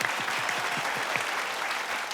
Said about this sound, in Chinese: 那我们就掌声欢迎强力喜进带来的慢才。